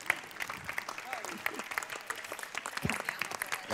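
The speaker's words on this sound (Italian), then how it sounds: "Un applauso a Paolo." Audience applause for Paolo Alberti, called to the stage at a Remiza 80 event in Sanremo, with steady dense clapping filling the whole stretch and a few scattered voices underneath.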